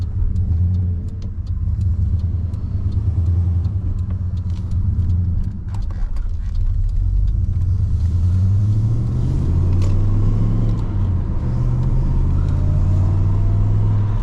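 HSV VS Manta with a modified exhaust driving, a deep, loud engine rumble heard from inside the car, rising in pitch as it accelerates and revs through the gears.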